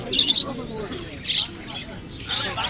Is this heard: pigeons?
yes